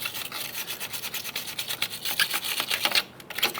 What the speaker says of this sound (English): so we can use a wire brush.